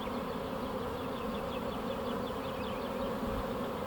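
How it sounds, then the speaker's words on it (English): Large honeybee swarm moving in near grapevines and blueberry bushes, a dense continuous buzzing of many bees close around the listener, with individual bees flying past. "This will be a pretty good sized swarm."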